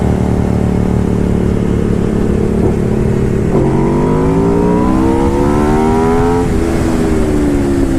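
An Aprilia RSV4R V4 motorcycle engine revs loud and close, its pitch climbing in two smooth pulls with a brief shift-like dip between, a continuous throaty drone with no talking.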